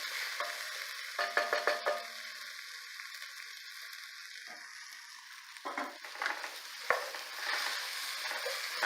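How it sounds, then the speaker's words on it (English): Diced potatoes and carrots sweating in a pan for vegetable stew, a faint low sizzle with bursts of spoon scraping and stirring clatter now and then, nobody talking. "time to continue sweating and cooking down, especially my potato and carrots"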